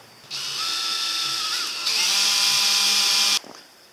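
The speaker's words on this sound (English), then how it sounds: "What I'm going to do first is drill some little pilot holes where I screw it in." Power drill boring small pilot holes for hinge screws in a camper van kitchen frame: a steady high-pitched motor whine held for about three seconds, rising in pitch partway through, loud and close with no talking.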